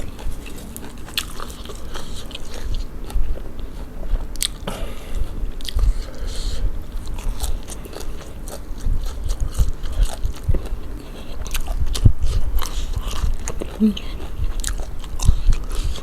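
Crunchy chewing and biting while eating Thai green papaya salad with fresh vegetables, a close, steady run of crisp bites and mastication with no talking.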